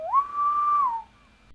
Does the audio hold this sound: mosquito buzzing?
no